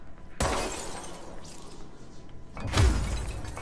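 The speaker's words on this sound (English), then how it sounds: "smash that glass up there" Glass smashes twice in the video game Control, loud shattering bursts with debris tinkling between them and no talk over it.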